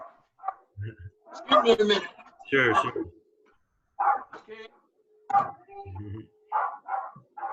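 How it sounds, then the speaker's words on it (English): A pet dog barks several times at close range in a room, short loud barks separated by pauses, while people talk over and around them. "That was my dog."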